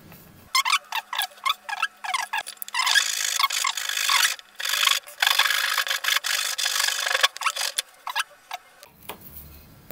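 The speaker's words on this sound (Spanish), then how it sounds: "Pues vamos a seguir con el lijado." A wooden tool handle is worked with coarse 36-grit sandpaper, giving rhythmic rasping strokes, first short and spaced, then longer runs of scratchy rubbing, close and fairly loud.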